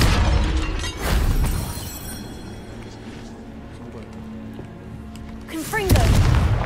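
A Confringo fire-blast spell exploding in Hogwarts Legacy: a heavy boom opens, a sustained rumbling roar follows, and a second loud burst hits near the end, with a voice briefly heard over the blasts.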